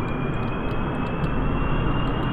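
A jet aircraft cruising at low altitude at normal speed in Kerbal Space Program gives a steady, dense engine roar, loud and unbroken throughout with a constant high whine on top.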